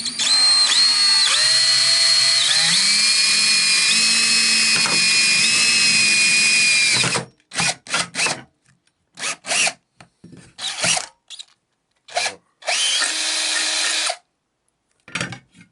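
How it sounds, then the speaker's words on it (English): A power drill whines steadily for about seven seconds while drilling a hole into a PC speaker over a worktop, its pitch shifting under load, then stops and restarts in short bursts. "as I drill, I am not ruining my worktop"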